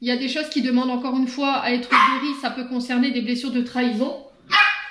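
A dog barks and yips in short bursts, close by and loud, over someone speaking French nearly the whole time.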